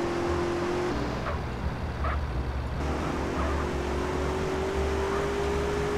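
Car engine in the GTA MTA roleplay video game, a steady motor drone with a rising tonal whine, a brief dip in the middle and no audible speech.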